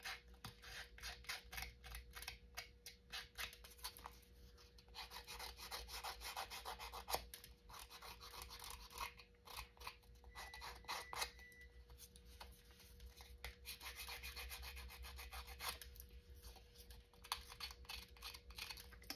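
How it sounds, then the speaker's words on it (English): Small scissors scrape and rough up the edges of a faux photo slide in quick, close, quiet rubbing strokes, repeated in clustered bursts with short gaps, no talking. "I'm going to take my scissors, I'll take my small pair, and I'm going to rough up the edges a little bit"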